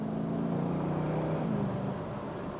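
Steady, loud V8 rumble from a Mercedes-Benz SLK55 AMG, a continuous deep engine drone with a slight swell and fade in pitch, heard alone without talk.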